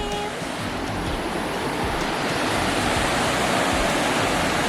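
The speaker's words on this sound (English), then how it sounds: "down at the little river." A small river rushes in a dense, continuous wash of flowing water, loud and close, with no breaks.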